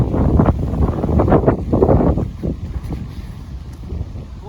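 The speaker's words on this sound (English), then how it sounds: "It's windy today here, folks." Gusty wind blows across an outdoor disc golf course at River City Nature Park, buffeting the microphone in loud, rumbling bursts that ease off toward the end.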